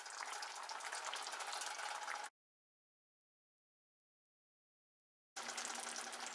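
Chopped tomatoes simmering in a pan, giving a steady bubbling hiss, heard in two short stretches separated by a few seconds of complete silence.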